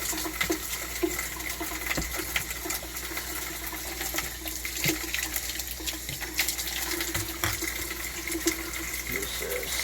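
Soapy water rinsed from tumbled agates out of an opened rock tumbler barrel, a steady close wash of running, splashing water with small knocks and clicks scattered through it.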